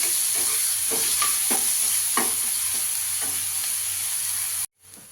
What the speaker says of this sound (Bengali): পেঁয়াজ আর রসুনটা একসঙ্গেই দিয়ে দেবো। পেঁয়াজটাকে ভেজে নেবো ভালো করে।